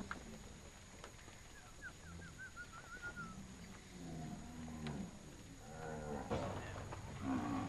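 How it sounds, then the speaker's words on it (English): Zebu cattle, bred for tropical conditions, moo on a medium-sized Brazilian ranch, with several drawn-out lowing calls at a distance and birdsong above them in the open air. "These are zebu cattle,"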